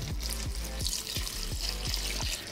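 Milk is poured into pancake batter, a steady liquid splash and trickle running continuously at close range, alone without talking.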